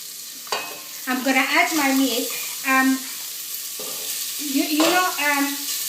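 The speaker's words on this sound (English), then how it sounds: "we're gonna fry it for just maybe a few seconds" Food sizzles and is stirred in a frying pan while a lamb and runner bean stew is made, a steady soft crackle under a person talking.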